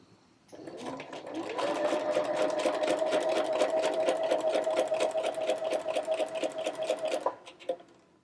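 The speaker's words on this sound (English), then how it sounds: "Then you're just going to sew as you normally would." A sewing machine stitching shirring with elastic thread runs steadily for several seconds with a fast, even mechanical whir, then slows and stops.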